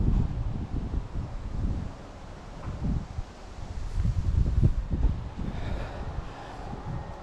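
Cold autumn wind in Canada gusting and buffeting the microphone in low rumbling bursts, with faint rustling behind, rising and falling over several seconds.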